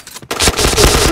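Sharp, loud gunshots from an AWP sniper rifle in a first-person shooter, several close blasts in quick succession with a short quiet gap before the first.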